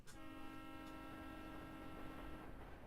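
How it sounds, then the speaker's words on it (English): A train in the Professor Layton and the Diabolical Box video game sounds a sustained steady horn tone over rumbling rail noise, fairly faint and continuous throughout. "Now, I know that was the train"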